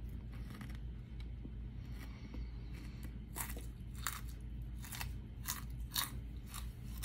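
Close, loud crunching as a tarantula with hair all over it is bitten and chewed, a run of sharp irregular crackling bites over several seconds, with no talking.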